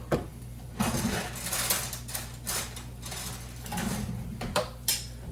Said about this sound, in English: grab some chopsticks or tongs and mix it up even further